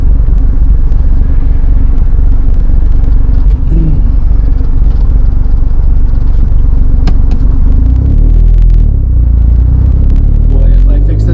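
An old car being started and driven after long disuse: a loud, close, continuous engine rumble with clattering, rising into heavier revving toward the end.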